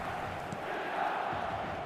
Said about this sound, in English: a lot of applause for the thought